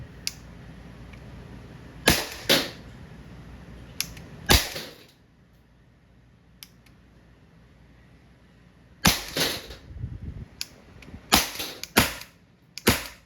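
Repeated sharp cracks from an Umarex Walther CP99 CO2 non-blowback .177 air pistol, fired in two irregular bursts of close, loud shots with a pause between them until the magazine runs empty.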